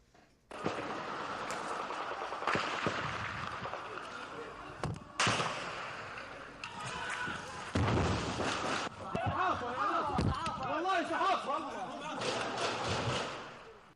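Gunfire and blasts during a night-long armed attack on the U.S. diplomatic outpost in Benghazi, loud cracking bursts and rumbling booms in a continuous barrage, with voices heard among them.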